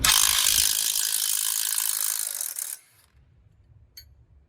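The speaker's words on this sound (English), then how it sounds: "grab the 22mm socket and a 22mm wrench and loosen these strut nuts" A ratchet wrench with a 22mm socket loosens the front strut nuts on a 2010-2015 Lexus RX350, giving a close, rapid, continuous clicking for nearly three seconds before stopping into near quiet.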